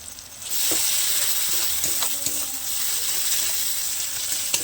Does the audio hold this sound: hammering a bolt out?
no